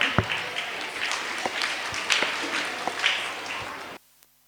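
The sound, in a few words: applause welcoming a Bharatanatyam dance performance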